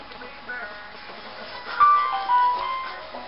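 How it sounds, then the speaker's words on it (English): A phone rings with two short electronic tones, one after another, over a quiet room background. "And that was my phone."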